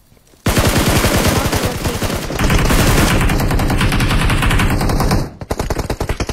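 Loud, rapid bursts of automatic gunfire in a video game, continuous for several seconds before breaking into scattered shots, close and dominating.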